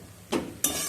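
Malabar spinach being stirred as it fries in a pan, with two short bursts of scraping and sizzling, the second louder and continuing to the end, close up, with no talking.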